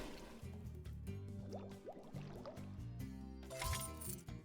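Splashing and burbling water sounds from swimming in the video game Ty the Tasmanian Tiger 2, with bubbly gurgles mixed into busy game music and sound effects.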